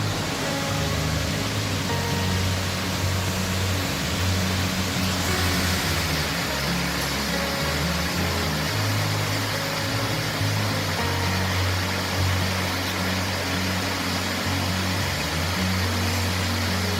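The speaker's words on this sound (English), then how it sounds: "this is my favorite view of Foster Falls" Foster Falls waterfall in South Pittsburg roars as a steady, broadband rush of falling water, dense and constant throughout, with a low rumble underneath and no voices.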